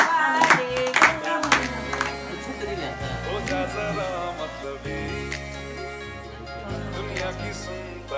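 At a birthday party, a few sharp hand claps ring out near the start, then fade under singing voices and tonal music that continue to the end.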